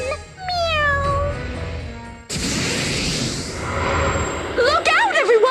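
A cat in the 3DS role-playing game Bravely Second: End Layer meows with rising and falling cries at the start and end, and a loud crash fills the middle.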